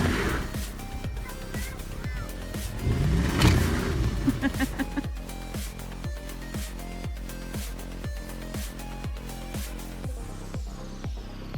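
A Jeep Honcho J10 pickup truck strains to pull a massive tree stump, its engine revving hard under load with repeated sharp clanks and knocks beating steadily throughout, loud and close.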